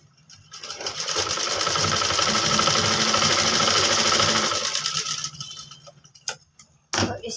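Sewing machine stitching a kurti collar runs steadily and loudly for about five seconds, then stops, followed by a few brief clicks and handling knocks.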